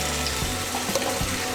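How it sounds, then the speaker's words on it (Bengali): A small splash of water is poured into a freshly washed spice bowl in a home kitchen, a short steady trickle with faint hollow clinks, heard close. "আমি মশলার বাটিটা ধুয়ে সামান্য একটু জল দিচ্ছি"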